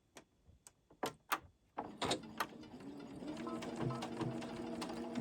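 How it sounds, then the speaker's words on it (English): Several sharp mechanical clicks and taps precede a home sewing machine starting up, then a steady whirring run of stitching through quilting fabric for a bookmark, close and alone. "All right, now we're going to sew that."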